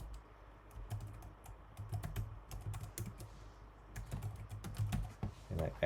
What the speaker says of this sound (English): And I go ahead and I type the organizational email here.